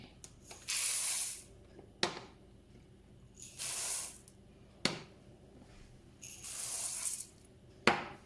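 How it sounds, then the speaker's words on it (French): Dry sprouting seeds and classic chickpeas stirred together in a bowl, three long rattling, rustling swishes of tumbling grains, each followed by a sharp click as the mixing stops, fairly close and alone. "je vais pouvoir mélanger toutes mes graines"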